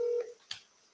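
Telephone keypad tones sound while a call is placed to a mobile home park owner: a short pair of dialing beeps, fairly quiet and alone with no talk.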